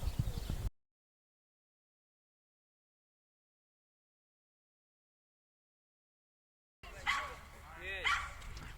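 A dog barks and yips several times at close range, the barks broken by a long silent gap, with a person talking over the noise.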